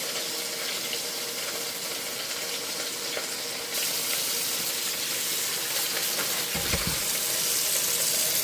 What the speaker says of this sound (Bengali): এই দেখো কাটোয়া ডাঁটার ডাঁটাগুলো, এগুলো আগে ধুই